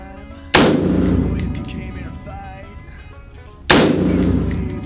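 Two loud, sharp gunshots strike AR-15 magazines about three seconds apart, each a sudden crack followed by a long fading ring and rumble outdoors.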